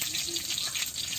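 Whole dried red chillies sizzle in hot oil in a pan, giving a steady, close frying hiss that holds without a break.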